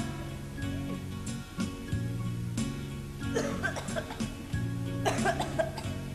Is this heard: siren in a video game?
no